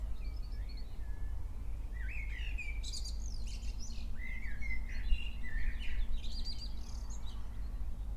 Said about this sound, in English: listening to the birdsong of the evening.